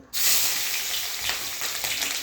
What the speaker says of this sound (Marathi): तेल गरम करायला ठेवलं होतं हे बघा याच्यामध्ये मी गोन दोन कांदे चिरून घेतले होते ते घालते